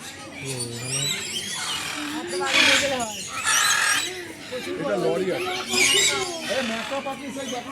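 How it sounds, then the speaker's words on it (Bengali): Macaws calling at a zoo in Newtown: harsh, screeching squawks burst out in a few loud rounds over a steady bed of background chatter and people talking nearby. "এইখানে যত পাখি আছে এগুলো হচ্ছে সব ম্যাকাও পাখি।"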